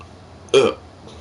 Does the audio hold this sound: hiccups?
yes